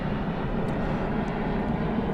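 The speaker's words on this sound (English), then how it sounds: "The only thing that doesn't help is these stupid airplanes that keep flying by." Airplanes passing overhead near a van camp, a steady broadband roar held at an even loudness throughout with no voices.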